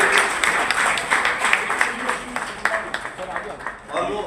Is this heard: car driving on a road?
no